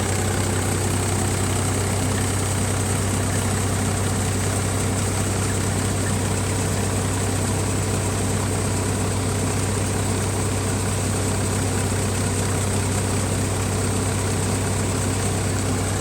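A tractor engine with about 2,000 running hours idles steadily with a deep, even low rumble and rapid firing throb, running alone without any voices.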